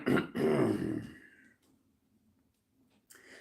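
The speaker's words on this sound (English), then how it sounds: "Sometimes I just clear my throat and it it sounds like the noise that like our grandfather used to make" A person gives a short, gravelly throat clearing up close. It lasts about a second and then trails off into near silence.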